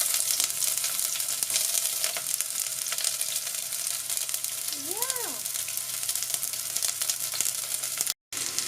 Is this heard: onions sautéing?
yes